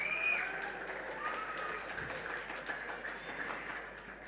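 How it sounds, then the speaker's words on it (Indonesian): Applause from the audience at an end-of-year ceremony for an Islamic school running from kindergarten through junior high, steady mid-level clapping heard from a distance, with crowd murmur and a voice or two mixed in. "Monggo tepuk tangan untuk beliau semuanya"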